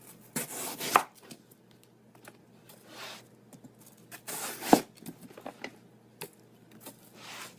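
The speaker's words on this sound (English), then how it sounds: "Then you just take your knife, and I have a nice big chef knife, and you go around the outside" Large chef knife slicing the rind off a watermelon in a series of separate crunchy cutting strokes. The cuts are close and fairly quiet, with two sharper crunches standing out between softer scraping passes and stretches of near silence.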